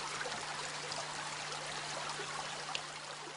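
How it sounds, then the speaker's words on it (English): Swarga, a mountain stream in Kerala, flowing with a steady, soft trickling rush of water heard alone at low volume with a faint constant hum beneath. "Swarga is one such stream."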